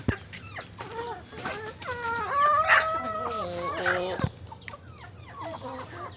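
Chickens cluck and a rooster crows in a cold-season village yard, several calls overlapping close by and fairly loud, with one sharp knock near the end and quieter background after.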